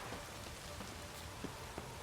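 Rain falls in the video game The Witcher 3 as a steady, dense patter with a few distinct drops, and it carries on alone without any voices.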